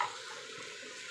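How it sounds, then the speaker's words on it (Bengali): Boiled teasel gourd (kakrol) frying in oil gives off a soft, steady sizzle, faint and close, with no voices. "তেল দিয়েই ভাজি করবো শুধু।"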